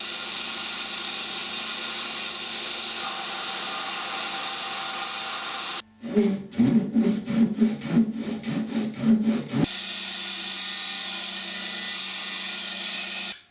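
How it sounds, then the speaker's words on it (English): Bandsaw cutting a wood template, a steady machine whine joined midway by a few seconds of rasping, uneven cutting noise, then the motor running on alone. "I may need to put it through the bandsaw and saw off the top part"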